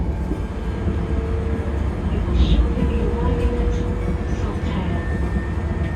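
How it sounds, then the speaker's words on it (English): A train runs along the tracks beside the Leeds and Liverpool Canal between Shipley and Saltaire, a steady low rumble with rail noise that holds for the whole stretch, mid-distance and continuous. "the train follows the line of the Leeds and Liverpool Canal"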